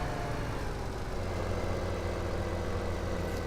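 A tractor engine idles steadily in Farming Simulator 17, a low continuous rumble with a faint mechanical whine on top, holding an even level throughout with no voices.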